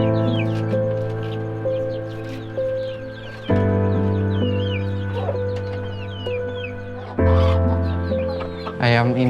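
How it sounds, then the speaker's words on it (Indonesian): Chickens on an Indonesian poultry farm cluck and chatter almost continuously, with a low engine-like drone in the background, occasional higher calls rising above the flock and a louder squawk near the end. "Ayam ini kan termasuk unggas yang rentan."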